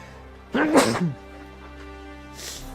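A single sharp sneeze bursts out, followed by quiet room tone and a faint breathy sound near the end.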